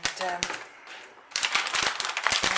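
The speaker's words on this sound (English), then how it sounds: "if I just cut the cellophane now" Cellophane wrapping around a potted Phalaenopsis orchid is cut open, giving close, dense crackling and crinkling bursts with sharp snips, loudest in the second half, beside a voice speaking.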